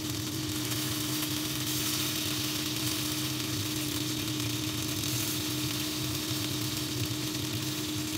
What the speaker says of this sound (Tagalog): Then, painitin ang kawali at lagyan ng mantika. Pan-fry muna natin yung manok.